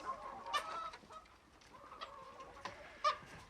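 Leghorn chickens clucking softly nearby, several short calls and squawks spread across the clip over faint background noise.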